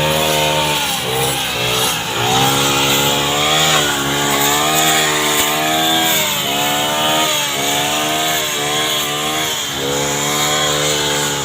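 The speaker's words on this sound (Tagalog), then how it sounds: "Grass cutter." A gas-powered grass cutter runs loud and close throughout, its engine note rising and falling in repeated revving surges over steady mechanical whine, cutting tall overgrown grass.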